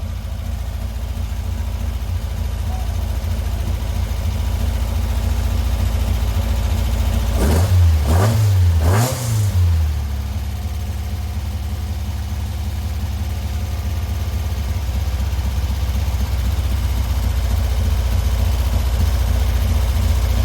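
A 1967 Volkswagen Split Bus with a new 1968cc engine runs steadily and close after starting, with three quick revs rising and falling midway before it settles back to a rumbling idle.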